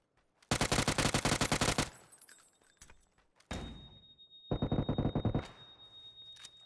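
Automatic weapon fire in the battle royale game PUBG: two long rapid bursts of close, loud gunshots separated by a quieter stretch with single shots and rattling, then another sharp burst near the end.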